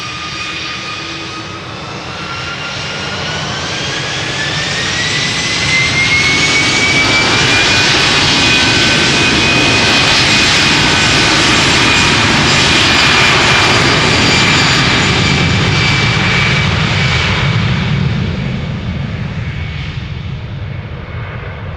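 A jet airliner takes off at Amsterdam Schiphol Airport, its engine roar building from a distance to a loud, sustained rumble with a rising whine, then slowly fading as it climbs away; no voices.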